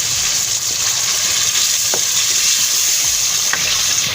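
Green chilies hit hot oil in a beef karahi and are stirred, giving a loud, dense, continuous sizzle with a few light utensil knocks, close up and without talk.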